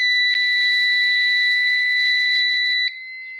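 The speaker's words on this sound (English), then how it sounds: "today's test on the ADT Unimode 10UD fire alarm demonstration board" An ADT Unimode 10UD fire alarm demonstration board sounds a steady, loud electronic tone with two sustained pitches, holding for nearly three seconds before dropping abruptly to a quieter tone.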